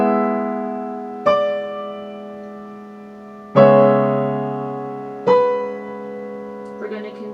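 A measure from the Adagio Sostenuto of Rachmaninov's Piano Concerto No 2 played on solo piano: four slow, ringing chords struck at wide intervals, each left to decay, with a quick softer flourish at the end.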